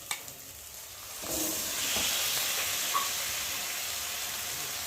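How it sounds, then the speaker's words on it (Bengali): Chicken tipped into a pan of fragrant spices and sautéed, a faint clatter giving way to a steady, close sizzle and hiss that carries on with a light stir, no voices. "দিয়ে চিকেনটা ভালো করে মশলার সাথে কষিয়ে নেব।"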